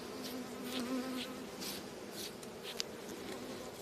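Honeybees buzz steadily at a hive in a mobile apiary during the acacia honey flow, a dense, continuous drone close by with individual bees swelling in and out, and no voices.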